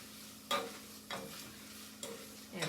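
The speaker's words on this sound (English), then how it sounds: "And I'm stirring it." Diced celery, onion and carrot soften over medium heat, a faint sizzle punctuated by four soft scraping stirs of a spoon in the pan, quiet and close with no talking.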